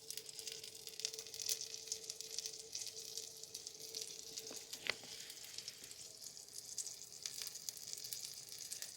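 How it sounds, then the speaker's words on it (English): Food sizzles steadily in a pan on a Bosch PXX675DV1E FlexInduction hob, a soft continuous crackling hiss with occasional small pops, fairly quiet and with no voices. "you can actually see that one's sizzling away quite nicely there"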